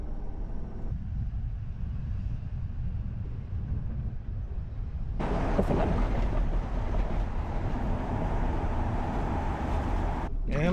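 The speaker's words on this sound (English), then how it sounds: "going over some railroad tracks." A pickup truck towing an RV fitted with an independent suspension system rolls over railroad tracks, a continuous low road rumble with rattling, then a louder, rougher stretch of cabin noise as the rig crosses.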